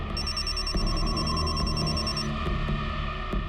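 A mobile phone rings indoors with a bright, repeating electronic ringtone pattern, moderately loud, which cuts off partway through and leaves a low background hum with faint clicks.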